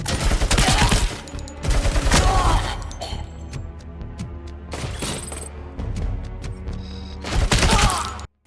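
Gunfire from a 40-year-old gun in the RoboCop Rogue City video game: loud bursts of rapid shots in several volleys, separated by quieter gaps with scattered impacts and clatter.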